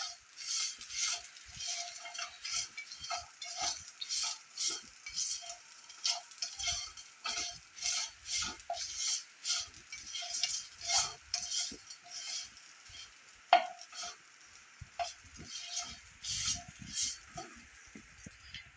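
Raw banana pieces fry in a pan and are stirred in quick, regular strokes, producing a faint, rhythmic scraping over a soft sizzle, with one sharper knock near the end and no talking.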